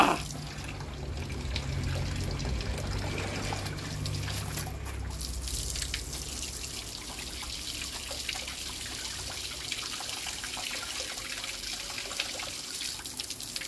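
Water sprays and trickles in a continuous hiss and splashing patter, with a low gurgle early that fades into a steady spray.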